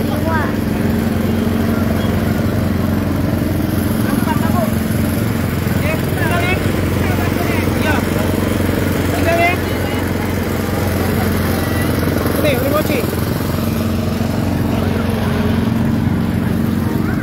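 A motorcycle engine passes nearby, a buzzing motor drone heard under frequent casual talk and shouts, steady and fairly loud throughout with some background chatter.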